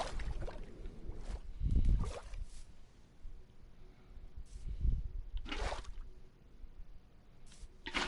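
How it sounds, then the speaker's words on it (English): Water poured down a hole in Minecraft Bedrock Edition on PlayStation, heard as soft splashing and sloshing game sounds that swell and fade in several bursts over a low background. "Pour some water down the hole."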